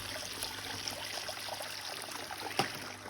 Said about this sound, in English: We will drop our vacuum into the pool.